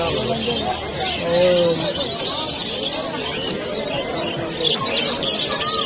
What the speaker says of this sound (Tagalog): Ang daming dalang ibon, no?